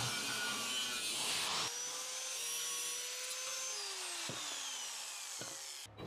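An angle grinder or cutting tool cuts out a welded metal piece for a homemade turbo wood stove, a loud, continuous, harsh grinding run with pitch sweeps as the blade loads and eases, close by with no talking.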